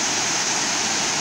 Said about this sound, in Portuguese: tô aqui na Formosa mostrando essa cachoeira para todo o Brasil